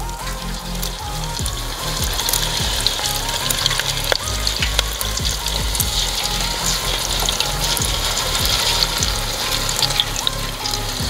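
A St. Paul sandwich fries in hot grease on a Halo Elite4B griddle, making a loud, constant crackling sizzle with sharp pops throughout and no talking.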